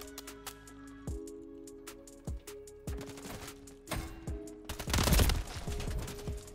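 Distant rapid gunfire in Call of Duty Modern Warfare 3 during an HRM 9 gunfight, with sharp scattered shots building into a denser burst near the end, fairly quiet under game ambience.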